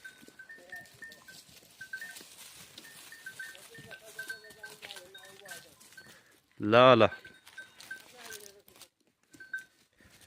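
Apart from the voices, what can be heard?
goats bleating in the jungle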